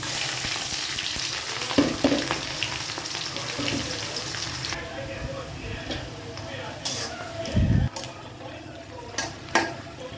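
Onion with bay leaf, cinnamon, cardamom, cloves and peppercorns sizzles in mustard oil in a pan, a soft steady fry broken by a few clinks and stirring knocks.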